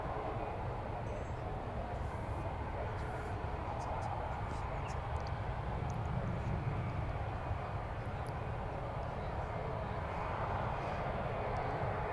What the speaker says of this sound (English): we've got an Airbus 320 just about to come in